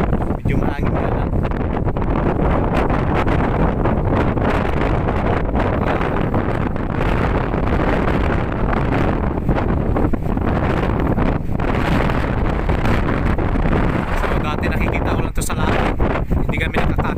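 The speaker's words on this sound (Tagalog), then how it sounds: "So, medyo mahangin na lang." Strong wind buffets the microphone continuously at an abandoned palace high on a rock, a loud, roaring rush with gusty swells throughout and a voice speaking faintly beneath it.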